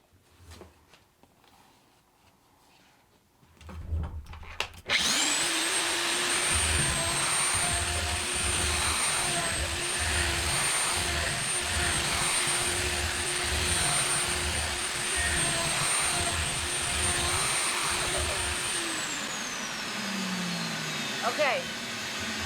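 A router on a sled flattens a wooden slab, its motor starting up after a few seconds of quiet handling and then holding a loud steady high whine with cutting noise before winding down at the end.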